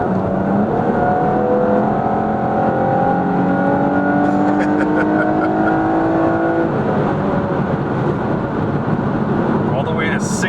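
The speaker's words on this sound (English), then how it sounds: "I had no expectations of the V6, but it sounds really good." A 2019 Chevrolet Camaro RS with a V6 engine accelerates hard to 6,800 RPM, its loud engine note climbing steadily in pitch through the run, with wind and road noise beneath and brief talk near the end.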